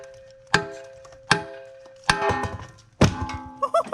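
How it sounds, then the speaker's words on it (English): Four loud metallic thunks as an aluminum Cummins X15 engine part is smacked against a metal motor mount, each sharp hit ringing briefly, spaced roughly a second apart, with small clatter after the last. "So I'm gonna smack it on the motor mount"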